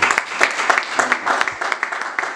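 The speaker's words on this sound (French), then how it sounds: "Est-ce qu'on peut acclamer pour la gloire de Dieu?" A church congregation claps loudly and continuously for the glory of God, a dense, close burst of many hands with no pause, lasting a couple of seconds.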